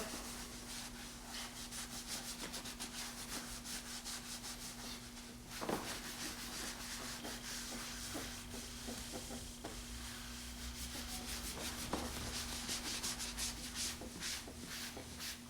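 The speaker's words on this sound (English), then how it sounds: "Do it pushing down a little bit, sort of massaging the sponge into the leather." A sponge rubbed with firm pressure over leather while working dye into it, giving a continuous close scrubbing hiss with faint scuffs and a low steady hum underneath.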